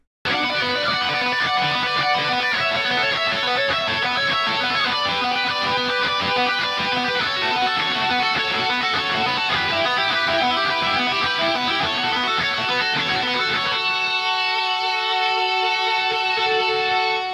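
Two guitars play together continuously, their notes smearing into a dense, muddy wash before one part drops out and a cleaner line rings alone.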